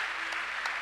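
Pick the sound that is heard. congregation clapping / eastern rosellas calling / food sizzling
congregation clapping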